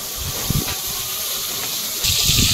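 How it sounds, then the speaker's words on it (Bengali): Eggplant pieces coated with salt and turmeric fry in hot oil, giving a steady close sizzling hiss that grows louder and brighter toward the end. "বেগুনগুলোর মধ্যে লবণ আর হলুদ মাখিয়ে ভালো করে নিয়ে আর ভেজে নেব।"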